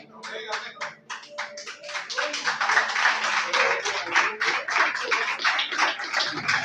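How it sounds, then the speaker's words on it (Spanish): A church congregation clapping in rhythm during a Hebrew-roots faith seminar, sharp regular claps that build from a few hands into a loud, steady beat, with singing or voices faintly underneath. "Ese aplauso siempre al Rey, déselo más fuerte"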